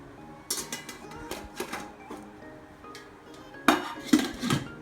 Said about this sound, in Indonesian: setelah semuanya dimasukkan ke dalam panci, kita tutup hingga rapat, jangan sampai ada yang terbuka